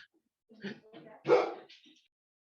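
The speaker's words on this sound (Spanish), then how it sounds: "disculpe que tengo unos perritos acá" Small pet dogs inside a home give short close yips and a whimpering whine, in a few brief bursts against near silence.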